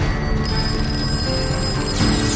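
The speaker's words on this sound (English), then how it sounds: "There were barrages of phone calls coming into the governor's office and to the Department of Public Safety." Telephones ring with calls to a governor's office, a loud, continuous electronic ringing tone that holds steady over a dense background for about two seconds.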